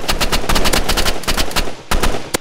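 Rapid automatic gunfire in the Roblox Rivals shooter game, loud bursts of closely spaced shots with brief pauses between volleys.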